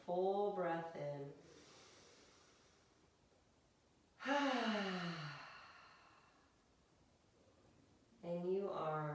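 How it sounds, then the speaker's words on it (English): A slow, deep breath drawn in during a yoga session, heard as soft, drawn-out airy rushes between short stretches of a calm voice speaking. "One more full breath in."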